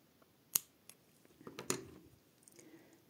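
Scissors snip through crochet yarn twice on a finished four-leaf-clover keychain, quiet close-up cuts with light handling noise and no voices.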